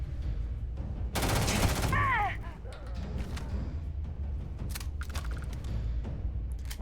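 Gunfire rings out in the video game Starfield, a loud rapid burst of automatic shots lasting about a second, then scattered single reports and sharp impacts at a closer range.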